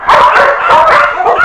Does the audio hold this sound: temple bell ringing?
no